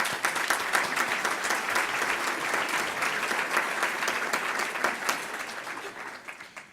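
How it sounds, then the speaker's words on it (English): A forum audience of nonprofit associates and guests applauds steadily, with dense overlapping claps at a moderate level from a room full of people, tapering slightly near the end. "Please give them a round of applause."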